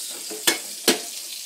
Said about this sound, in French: Je brasse la sauce.